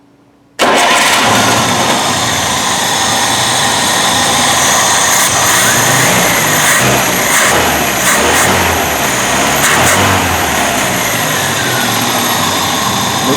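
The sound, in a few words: rebuilt UZAM 1.7 car engine starting and running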